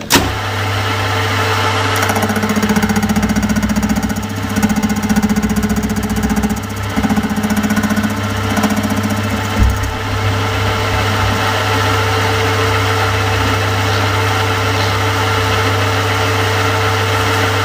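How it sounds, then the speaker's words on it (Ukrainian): A gear cutting machine cuts a 17-tooth gear with a steady loud mechanical drone, a low motor hum and a pulsing mid-range whir that repeats in regular cycles, with occasional faint clanks and no talking. "Щось останнім часом багато я шестерень ріжу, як ніколи."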